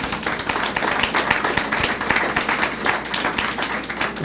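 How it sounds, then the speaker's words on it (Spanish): A church congregation claps in praise during a service, a dense, steady burst of many hands applauding together throughout, loud and close, with voices faintly mixed in. "Denle un aplauso al Señor."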